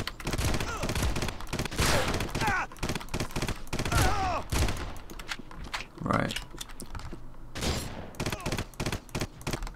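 Gun firing in the Red Faction video game, a loud stream of rapid sharp shots in clustered bursts mixed with impacts and clatter, with a voice talking over parts of it.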